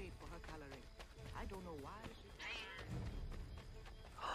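A cat meows repeatedly within the colonial setting of Assassin's Creed 3, the rising and falling cries heard close by over game ambience while a player talks throughout.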